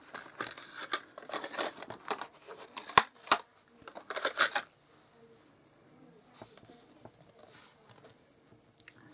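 Scissors snipping a paper Santa cut-out from a craft catalogue: a run of quick, close crisp cuts and paper rustles in bursts, then quieter scattered crinkling as the trimming slows.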